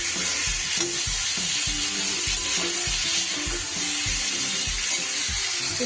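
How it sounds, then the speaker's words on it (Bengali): Vegetables frying in oil in a wok for a Bengali fish curry give a steady loud hiss, with repeated scraping and stirring knocks of a spatula throughout, and no talk. "সবজিগুলো আমার ভালো করে ভাজা হয়ে গেছে, এগুলোকে এবার তুলে নিই।"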